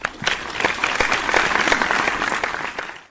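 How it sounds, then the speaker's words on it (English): A burst of applause, many hands clapping in a dense, steady patter that swells and then fades out at the end. "I think you deserve a round of applause for that."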